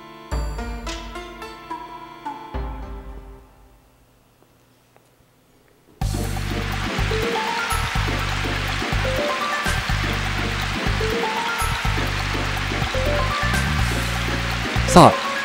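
Rushing waterfall from the Arc the Lad video game, a steady loud wash of water after a few seconds of quieter game music, with someone talking over it.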